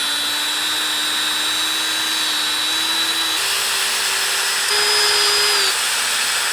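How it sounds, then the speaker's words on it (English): A power drill drills through metal on a restored jon boat, whining steadily at a high pitch, its motor note rising slightly as it bites in, loud and close with no talk. "we're gonna take a drill bit, just drill through that to make sure that it has a tight fitting"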